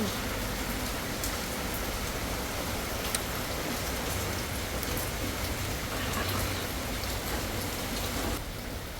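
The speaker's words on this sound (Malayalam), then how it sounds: "ട്രിവാൻഡ്രത്ത് ഇപ്പോൾ മഴ കുറച്ച് കൂടുതലാണ്." Dense, steady rain pours down continuously in Thiruvananthapuram, a loud even hiss with scattered drop patter throughout and no voices.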